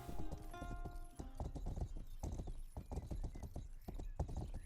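Horse hooves clip-clop in quick uneven beats in the medieval video game Rustler, loud and close, with a brief whinny early on.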